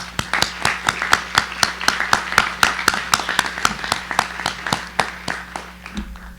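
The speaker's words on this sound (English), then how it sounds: "can we just give them a round of applause?" A seated crowd at a 2022 high school senior graduation claps in a light, scattered round of applause, individual hand claps distinct and steady, fading out near the end.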